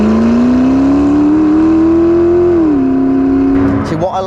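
A hypercar's engine revs loud and close with a steady, strained drone that holds its pitch, dips briefly and then fades as other noise comes in near the end.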